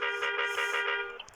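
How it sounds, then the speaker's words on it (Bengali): A bus horn in a bus simulator video game, a clean synthetic tone pulsing in quick repeated beeps for about a second, then stopping, alone with no talk. "আমরা এখন হর্নের মাধ্যমে সাইড দিব"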